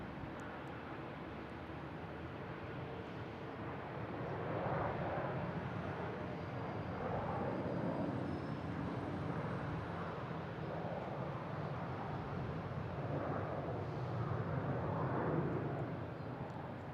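An American Airlines airliner arriving at Boston Logan Airport from Orlando, a broad steady jet roar that swells slightly midway and holds at moderate distance, with no talk.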